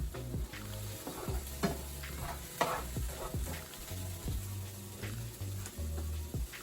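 Ingredients being moved around and frying in a stainless steel pan on the stove, a soft steady sizzle punctuated by repeated spoon scrapes and taps, close by, with no voices.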